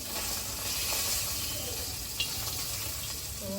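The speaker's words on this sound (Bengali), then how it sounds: "মাছগুলো ভেজে নিয়ে" Foli fish from the Ganges frying in hot oil, a steady close sizzle and hiss throughout with a faint clink partway through.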